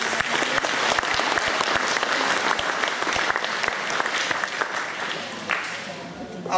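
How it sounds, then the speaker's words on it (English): Audience applause following a cultural dance performance at a community gathering, a full round of clapping from many hands that holds steady for several seconds before gradually easing off. "Ladies and gentlemen, could we give them another round of applause, please?"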